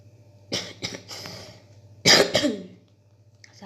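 A person coughs repeatedly at close range: a couple of short coughs, then a harder, louder cough burst followed by a throat-clearing rasp, over a low steady background hum.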